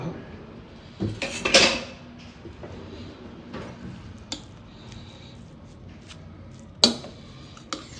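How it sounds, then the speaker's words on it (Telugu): Cooked vegetable pulao made with basmati rice is scooped from a pot into a bowl. A few sharp metal clanks and a scraping rustle sound up close, with long quiet stretches between them and a final clink near the end. "ఓపెన్ చేసుకొని బౌల్లోకి షిఫ్ట్ చేసుకుందాం"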